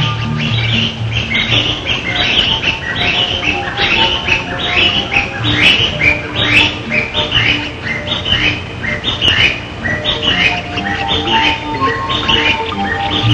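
A family of Formosan blue magpies calls and chirps busily at close range, with repeated harsh, scratchy notes overlapping in a steady stream and a few softer cooing tones beneath.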